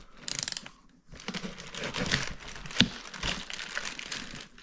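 Snowboard boots with ratchet lacing are worked close up: a quick burst of clicking ratchet teeth, then crinkly, rustling tugs and scattered sharp ticks as the laces are locked and loosened.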